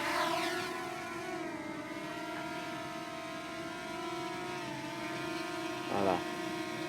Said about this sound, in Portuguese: Já liguei o drone aqui.